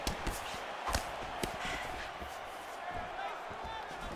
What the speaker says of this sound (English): You hear the impact of that leg kick.